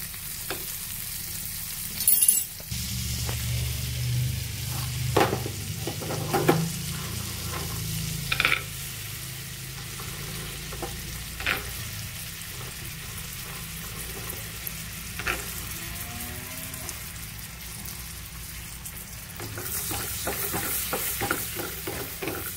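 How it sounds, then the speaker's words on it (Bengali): Whole almonds fry in ghee in a pan, giving a continuous low sizzle broken by scraping and clattering as a spoon stirs them every few seconds, close up and with no voices. "সে ড্রাই ফ্রুট আমন্ডটা প্রথমে ভেজে নেব"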